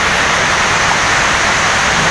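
Steady, dense roar of heavy typhoon rain in Palawan, continuous and unbroken throughout, with no voices.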